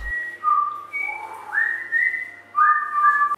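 One person whistles the 30 Millions d'Amis theme tune, a clear, close melody of sustained and sliding notes in short phrases separated by small breaths.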